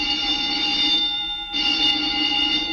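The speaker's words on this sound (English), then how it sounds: "The old woman must have turned in an alarm." A fire-alarm style electronic alarm rings steadily with a sustained bright tone, briefly dipping near the middle before resuming, loud and continuous with no talk.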